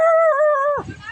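A person imitates a dog with a single drawn-out, howl-like bark that has a rising and falling pitch and lasts under a second. Faint background noise follows it.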